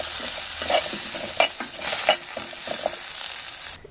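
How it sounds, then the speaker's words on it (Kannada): Potatoes fry in hot oil for a vegetable pulao, a steady close sizzling hiss broken by several scraping stirs of a utensil in the pan, with no talking. "ಎಣ್ಣೆ ಬಿಸಿತಂದ್ರೆ ಇವನ್ನ ಆಲೂಗಡ್ಡೆನ ಸ್ವಲ್ಪ ಫ್ರೈ ಮಾಡ್ಕೊಂಬಿಡೋಣ ರೀ"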